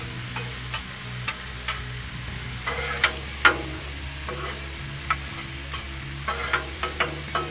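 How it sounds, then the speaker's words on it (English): Peppers, onions and mushrooms fry on a griddle with a low, steady sizzle, punctuated by intermittent metal spatula scrapes and taps as they are stirred, close by and without talk. "Let's go ahead and stir our peppers and onions and the mushrooms up now."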